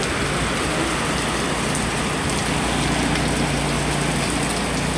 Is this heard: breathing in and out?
no